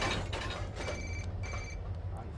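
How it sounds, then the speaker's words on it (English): A cell phone rings in a movie scene, a bright repeating electronic trill in short bursts over a steady low hum and background noise. "Oh my God, my cell phone, it's ringing"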